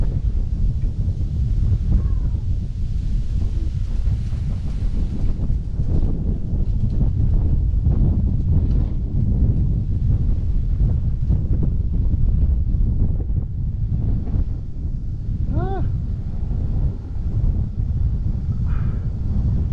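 Steady, cool late-afternoon wind blowing hard across the microphone while cycling in Busan, a continuous low buffeting roar with faint rustling and a few brief higher chirps near the end.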